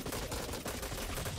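Dense gunfire rattles continuously through a short burst of combat in the shooter game Blacklight: Retribution, loud and busy throughout.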